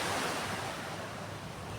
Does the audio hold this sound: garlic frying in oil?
no